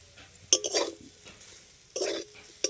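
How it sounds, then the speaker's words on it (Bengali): A spiced tomato filling for tomato chop, seasoned with chaat masala and garam masala, is stirred in a pan. Three short scraping strokes come with brief pauses between them, close and fairly quiet. "এখন নেড়ে চেড়ে নামিয়ে নেব"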